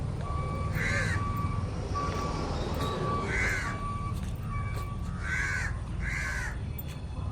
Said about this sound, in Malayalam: കിളികളുടെ സൗണ്ടും